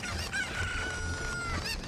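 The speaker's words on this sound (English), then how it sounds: "I am bad at picking up chickens." A cucco, the chicken of Zelda: Ocarina of Time, gives a short squawking cluck close up, with a thin sustained tone running beneath it.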